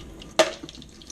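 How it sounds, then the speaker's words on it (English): Water is poured out of a cup, a single brief splash that lands close and clear and then quickly fades into quiet dripping. "I'm actually gonna pour just a bit of water out."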